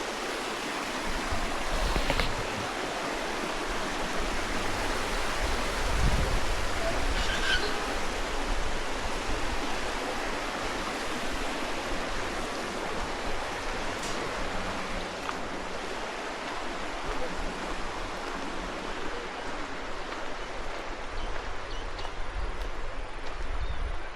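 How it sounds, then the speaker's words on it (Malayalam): Clear river water flows in a continuous broadband rush, steady and moderately loud throughout, with no voices and no breaks. "ഇത് നമ്മൾ മുമ്പേ ഞാൻ കാണിച്ച റിവറാണ്. ആഹാ, നല്ല തെളിഞ്ഞ വെള്ളം കേട്ടോ."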